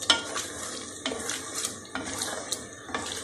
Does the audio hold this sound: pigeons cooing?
no